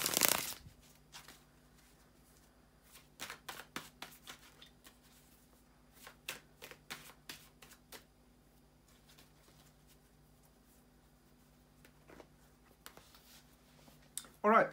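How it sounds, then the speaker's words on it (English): Tarot cards being shuffled by hand in a quiet room: soft, rapid riffles and clicks in scattered bursts over a faint steady hum, with a louder rustle at the start and end. "just bear with me a second, guys, to shuffle the tarot cards"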